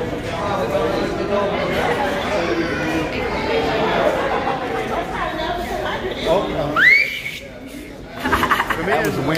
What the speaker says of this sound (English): That was wimpy. That was a sad whistle.